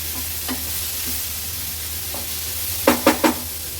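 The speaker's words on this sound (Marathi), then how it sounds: "टोमॅटो मसाल्यात व्यवस्थित मिक्स करून घेते." Chopped tomatoes are stirred into a sizzling masala in a pan for an egg rice dish, a steady frying hiss under scattered spoon scrapes that end in three quick, sharper knocks, with no talk.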